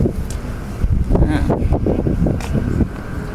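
Cold, freezing wind buffets the microphone outdoors in a Czech city, a loud continuous low roar with gusty surges throughout.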